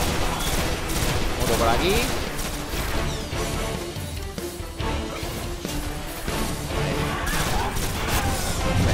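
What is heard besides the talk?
gunfire in the video game Destiny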